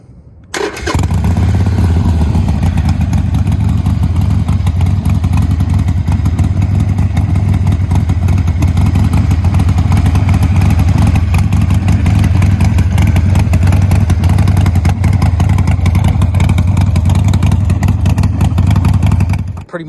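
A 2020 Harley-Davidson Iron 1200 fitted with budget Amazon slip-on exhausts starts up and idles with a deep, loud, steady rumble that stays close and constant for about twenty seconds.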